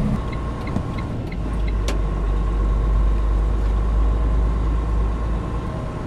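A car drives into city traffic in Calgary, Alberta, giving a loud, steady low engine and road rumble from inside the cabin with a brief click near the start.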